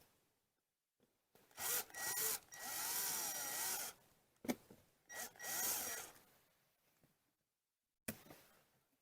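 Screws being started by a power driver into a 30 amp marine-grade RV power inlet: several short whirring bursts, one longer run, separated by quiet pauses, close and clear.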